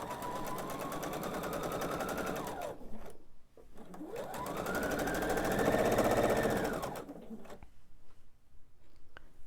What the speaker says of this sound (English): I'm simply just going to sew the same seam we've been doing to assemble the blocks and sew the length of this seam